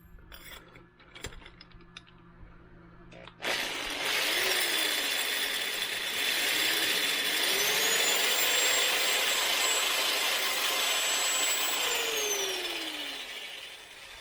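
A power case trimmer works through .416 Barrett rifle brass, a loud steady motor whine with a grinding mechanical edge that starts abruptly after a few seconds of faint clicks and handling, then runs continuously with shifting pitch before tapering off.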